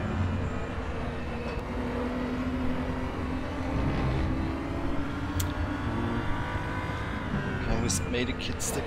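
A BMW M235i Racing car in the RaceRoom racing game drones steadily with a continuous engine roar that barely varies in level, under a voice.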